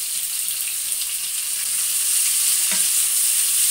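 Onions and green chillies fry in hot oil, giving a constant close-up sizzle with a brief knock of a spoon partway through.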